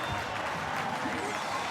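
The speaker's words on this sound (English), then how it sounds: "the crowd rises again" Stadium crowd at an NRL rugby league match between Wests Tigers and North Queensland Cowboys cheers and applauds in a broad, sustained roar, with a commentator talking over it.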